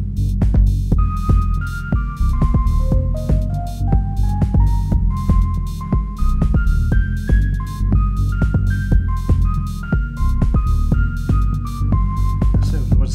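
A synth lead line on a Novation Circuit Tracks plays a stepping, sustained melody over a loud throbbing bass groove and steady drum hits, notes gliding up and down in a continuous pattern.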